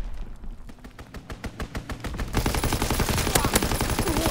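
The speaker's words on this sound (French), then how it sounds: "Mitraillage imminent" A strafing run in the Call of Duty WW2 video game brings rapid, evenly spaced gunfire that starts moderately loud and swells into a dense, louder barrage of overlapping shots, with no talking.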